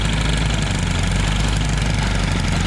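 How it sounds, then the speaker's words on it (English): A tractor engine runs steadily at close range during a tree-trimming job on a hillside, giving a constant low rumbling drone with no gaps and no voices over it. "got Ron driving the tractor"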